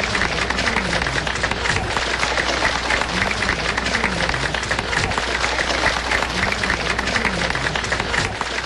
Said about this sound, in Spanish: El aplauso por los embajadores criollos.